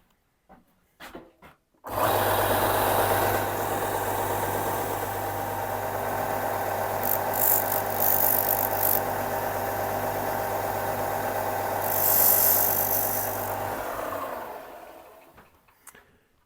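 A power sanding tool working a guitar part starts abruptly after a couple of light knocks, then runs as one loud continuous whir for about twelve seconds before winding down and stopping, with no talk.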